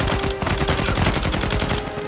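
A player's gun fires in rapid sustained automatic bursts in Uncharted 4, loud and close, each shot distinct in a fast steady rhythm.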